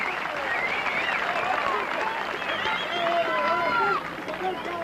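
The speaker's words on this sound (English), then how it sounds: "Cotter's come in to score, and listen to that crowd" Baseball crowd in a 1981 Peterbilt versus New Zealand game roaring after a runner scores, a sustained dense wash of cheering and shouts, with a broadcaster talking over it.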